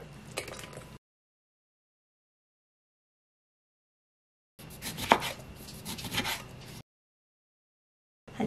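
Knife chopping lemons on a board: a short burst of cuts, a long silence, then about two seconds of steady close chopping with one sharp knock.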